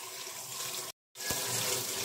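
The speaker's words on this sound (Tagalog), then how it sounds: "lilinisin na natin ang mga patatas" Potatoes being washed under a running kitchen tap: steady, close hiss of water splashing in a sink, broken by a brief silent gap before the flow resumes just as strongly.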